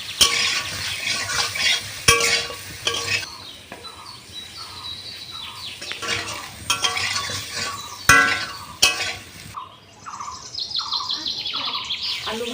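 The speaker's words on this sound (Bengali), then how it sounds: "তার আলুগুলো ভেজে নেব" Potatoes fry in hot oil in a wok with a faint sizzle, broken by sharp clatters of stirring and scraping, while birds chirp repeatedly in the background.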